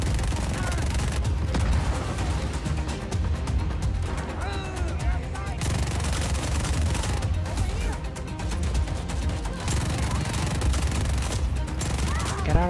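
Dense, continuous battle gunfire from the open-world action game Just Cause, with a tornado nearby, rolling under a steady roar of wind and explosions for the whole stretch while a voice talks over it.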